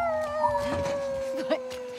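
A video game character in The Last of Us Part II imitates a wolf howl with the voice, a long sustained wavering tone that slowly falls in pitch, close and fairly loud, with a few fainter vocal sounds underneath.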